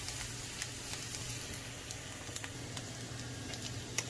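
Garlic sizzles in a hot pan while cooking a pasta sauce, a quiet steady crackle and hiss with occasional small pops.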